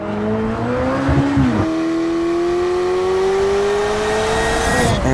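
A McLaren Elva engine roars loud and close, its pitch climbing steadily through a sustained rev with a brief drop as if shifting gear, then rising again.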